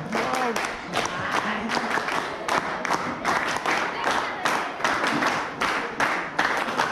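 An audience at a school welcome event claps steadily for several seconds, a dense patter of many hands with a few voices mixed in.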